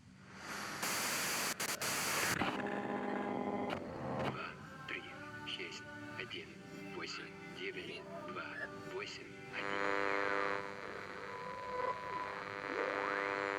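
Radio white-noise static in the Disco Elysium video game, a harsh hiss bursting in at the start, then tonal warbling radio sounds, with loud static returning near the end alongside speech.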